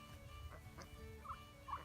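Bourbon Red turkeys gobble faintly in a distance, a couple of short warbling calls late on, plus scattered soft clucks over a low background hum.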